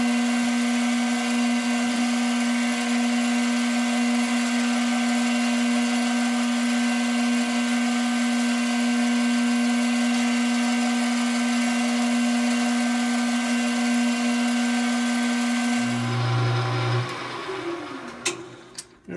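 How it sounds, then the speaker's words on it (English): Drill boring the airway hole through a wooden Danish-style tobacco pipe, a steady loud motor whine with a constant hum held for about sixteen seconds, then it shifts as the bit is pushed forward and winds down. "the airway is now drilled"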